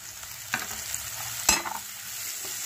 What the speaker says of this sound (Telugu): మనం మీల్ మేకర్ వేసేసుకుందాం.